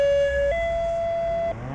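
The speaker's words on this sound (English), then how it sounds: "Here's the siren at Paxlina Fire Station. Every Saturday at noon it goes off for 30 seconds." A fire station siren sounding from a fixed point, a loud steady wailing tone that steps up in pitch partway through and holds, heard alone from a stationary spot.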